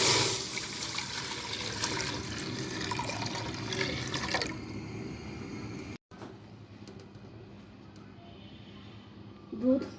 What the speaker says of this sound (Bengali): একটা পাত্রে লিকুইড দুধ দিয়ে দিচ্ছি।